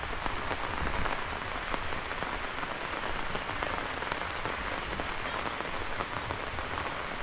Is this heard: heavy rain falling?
yes